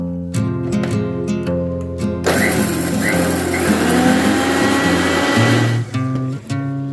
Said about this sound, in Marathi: आता मिक्सरच्या भांड्यामध्ये पालक पनीरसाठी मिरची वाटते.